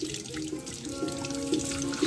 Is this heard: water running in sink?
yes